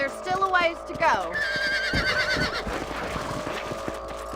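In Red Dead Redemption, a horse gives a loud, rising whinny close by while hooves clip-clop steadily underneath, and a voice speaks briefly in the game soundscape.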